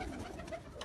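A pigeon gives a faint, short cooing call nearby, brief and soft against a quiet background.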